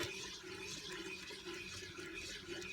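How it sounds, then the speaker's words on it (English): Starchy pasta water pours into a pan of tuna scampi sauce as a quiet, steady trickle with a faint liquid splash, alone with no talking. "you'll just go ahead and add that pasta water"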